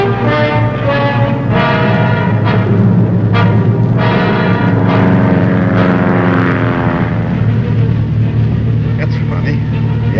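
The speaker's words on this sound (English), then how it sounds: "But with all the power on, Harry barely picks up enough airspeed to climb out of the ground effect." A small propeller airplane takes off at full power on a 100-degree day at high altitude, its engine drone steady and loud throughout the clip with a faint harmonic rise as it strains to climb.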